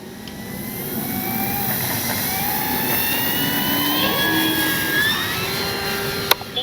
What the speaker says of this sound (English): Alright, we'll try taking off from there.